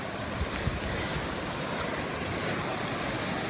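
Fast-flowing river water in a forested spot near Jugiong and Tumut rushes in a loud, steady broadband wash, close to the microphone, with faint wind buffeting and no talk.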